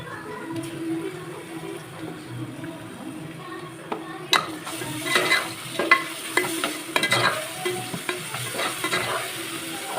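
Ginger garlic paste sautéing with onions in hot oil for mutton biryani, a steady sizzle with repeated scraping stirs of a ladle against the pan, close up, growing busier partway through.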